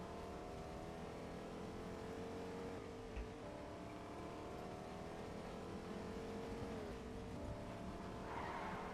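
Faint car engine from Fortnite gameplay, a continuous drone with shifting revs and a brief tire squeal or skid partway through, playing quietly and steadily on its own.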